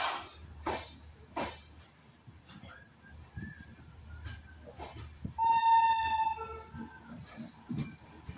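Golden Temple Mail passenger train (12903, Amritsar route) departing roughly twenty minutes late, with clattering carriage noise and a sustained horn sounding midway, heard from on board the train.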